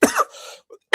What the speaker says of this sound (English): So the cough is beginning to come, I guess.